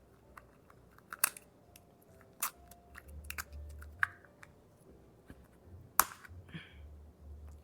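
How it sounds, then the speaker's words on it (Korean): Scissors cutting through tough, moisture-proof packaging, heard as a handful of sharp, scattered snips and crunches, fairly faint over a low background rumble. "귀찮아 그러면 가위로 자르시면 되는데"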